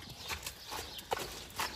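Hooves of a horse being tamed clop at a walking pace, a few soft irregular steps at moderate distance, with no talk.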